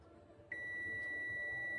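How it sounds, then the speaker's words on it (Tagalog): A multimeter's continuity buzzer, tested across a shorted SMD capacitor on a Lenovo T420 laptop board, cuts in abruptly after a brief quiet moment and then holds a steady, piercing, close tone until the end. "Okay, buzzer sound."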